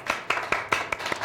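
Slow, rhythmic clapping from a few hands at a political debate contest, six or seven distinct evenly spaced claps, fairly close and clear against a quiet room.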